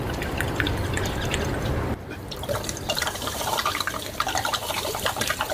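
Water pours out of a bottle in a sustained gurgling, splashing stream, close and fairly loud, with a brief break partway through and no talk.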